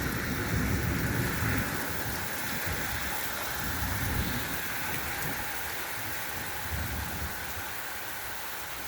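Steady rain falls in a summer thunderstorm with heavy broadband hiss throughout, a few louder rumbling swells of thunder rising over the downpour, no voices.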